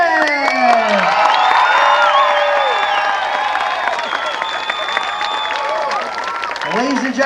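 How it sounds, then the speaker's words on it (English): A crowd applauds and cheers for a high diver during a night dive show at Six Flags Great Adventure theme park in 1999; sustained outdoor clapping and whoops mixed with loud, sweeping tonal sounds and voices. "let's all give him a big, loud round of applause and let him know we're down here"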